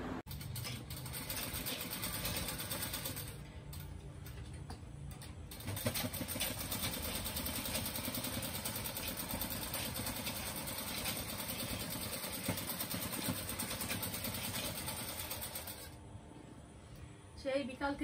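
A sewing machine runs in a steady, buzzing chatter that stops briefly partway through and then resumes, with a person talking over much of it.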